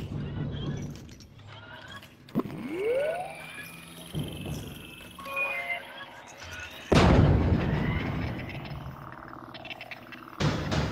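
Explosions in the VR game Vader Immortal: a deep rumbling burst and then a big sustained blast, mixed with sci-fi sweeps, chirps and game sounds. Some talk appears in the mix.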